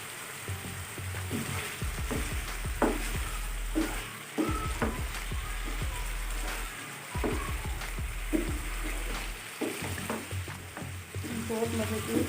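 Green chillies and chicken liver sizzling on a hot tawa, a loud continuous crackling fry with occasional stirring scrapes and clatters throughout.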